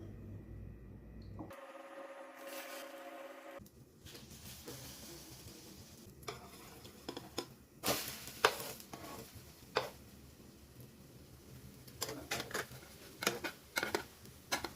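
Slices of bread soaked in egg mixture fry in ghee in a pan for French toast, giving a soft, steady sizzle broken by scattered clicks and brief spatters, fairly quiet and close.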